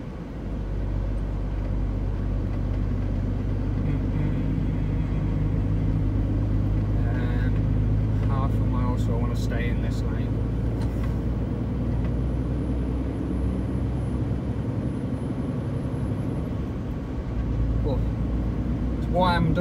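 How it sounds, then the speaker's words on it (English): Steady low engine rumble and road noise fill the cab of a truck idling and creeping in hot UK traffic. Faint rattles and brief higher clicks come through midway. "Oh, sitting in traffic's tiring."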